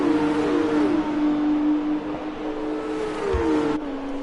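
Formula 2 race cars in an F2 Championship round in Spain roaring along, a steady high-pitched engine whine with shifting tones as cars slipstream and pass, loud and continuous.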